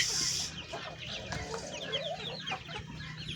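Native Parawakan chickens on a farm cluck in close, uneven bursts, with soft fowl chatter and outdoor ambience.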